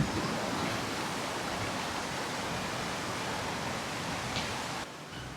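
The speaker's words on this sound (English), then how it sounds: "River is really flowing right now" A swollen mountain river beside a bike trail in Lauterbrunnen, Switzerland rushes in a loud, steady, full roar, close by and continuous, with no voices over it.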